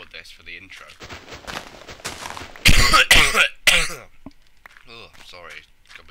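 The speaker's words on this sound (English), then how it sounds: "Oh, sorry, it's got a bit of a cough." Harsh coughs burst out in the middle of a Minecraft play session, a few loud rough hacks in quick succession amid rustling and quieter vocal noises.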